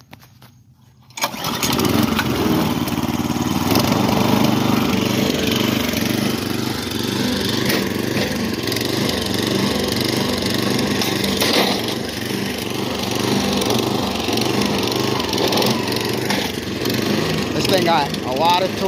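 A cheap lawn aerating machine's small engine catches after a brief quiet start and then runs steadily and loudly at close range with a rhythmic chugging pulse, holding the same level through to the end.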